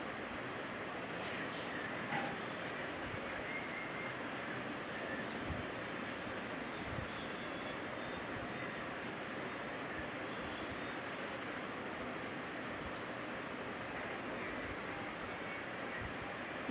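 A metro train rolls along an elevated track above a highway near the Rajarajeshwari Nagar arch in Bangalore, a steady sustained rumble and rail roar lasting throughout, moderately distant and unbroken.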